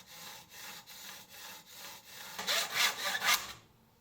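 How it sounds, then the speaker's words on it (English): A larger hand saw cuts through a small piece of wood in steady back-and-forth strokes, soft at first, then louder and scratchier over the last few strokes before stopping. "I have to use my bigger saw here."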